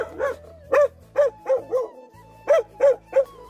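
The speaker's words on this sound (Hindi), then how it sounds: "मैं घर से काफी दूर आ गया हूँ, फिर भी भौंक ही रहा है भाई।" A dog barks repeatedly at night in a hilly rural area, eight loud, fairly close barks in an irregular rhythm with short gaps, with no talking over them.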